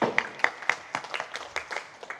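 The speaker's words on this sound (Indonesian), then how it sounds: "Tepuk tangan untuk Senawangi." An indoor audience claps at a wayang puppet theatre event in Jakarta, a short burst of scattered, fairly quiet handclaps with uneven rhythm.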